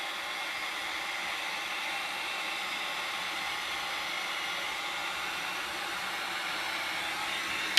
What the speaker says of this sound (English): So I'm going to go ahead and take my heat gun, just a regular heat gun.